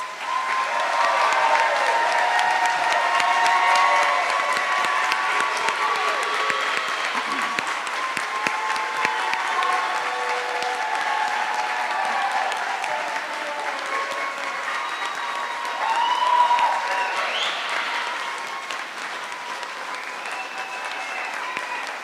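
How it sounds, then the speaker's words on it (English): A crowd at a nursing school pinning ceremony breaks into sustained applause, an even wash of clapping that swells briefly with a few cheers before settling, with talk audible beneath it. "Let's give them one big round of applause."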